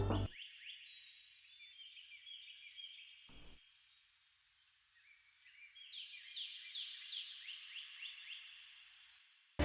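Sparse, high-pitched bird chirps at a quiet level, a short pause mid-way, then a denser run of rapid descending tweets near the end.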